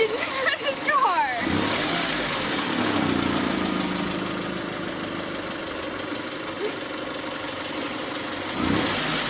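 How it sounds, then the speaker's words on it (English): A car engine runs steadily as a low rumble with a brief rev near the start, under continuous talking. "Much like the engine of this car"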